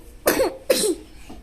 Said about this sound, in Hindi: देखो खांसी आ रही है ना।